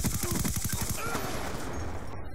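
Rapid automatic gunfire from Black Ops 2, a fast burst of sharp repeated shots for about a second, then fading into a trailing rumble and background game noise.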